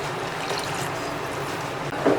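About two glasses of water are poured into a village-style spicy crab curry in a cooking pot, a close, soft splashing trickle that ends with a brief louder splash.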